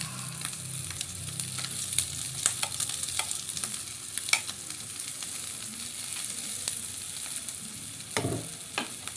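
Ginger sizzles steadily in a hot pan for tinola, a continuous bright crackling hiss with occasional sharper pops and faint stirring scrapes, close and unbroken throughout.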